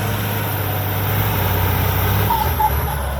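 A Ford 7810 tractor engine idles steadily outdoors, a continuous low, even rumble that holds at constant loudness throughout with no pauses or revving.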